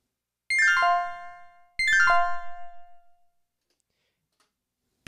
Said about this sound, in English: B4 is called Bells.